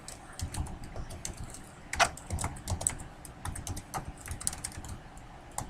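Code being typed on a computer keyboard, a fast, irregular run of close key clicks with a few louder strokes, heard alone without speech.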